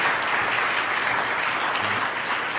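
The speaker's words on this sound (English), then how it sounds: "wild round of applause?" An audience at a church community event gives a wild round of applause, a thick continuous wash of clapping that stays even and loud throughout, alone without speech.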